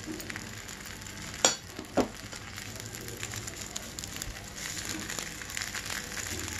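Cooked rice being stirred into a curry leaf mixture in a pan, a steady soft sizzle with a couple of brief scraping knocks from the spoon, close and moderately quiet with no talking.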